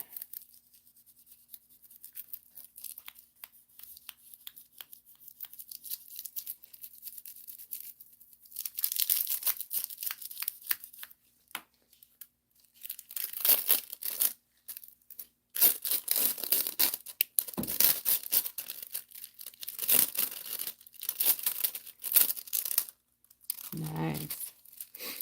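Transfer foil crinkling and tearing during rock art work on a stone, in quiet intermittent bursts of crackling and ripping, sharper and denser in the second half.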